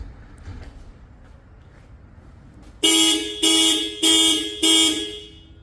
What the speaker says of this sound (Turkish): Alarmımız.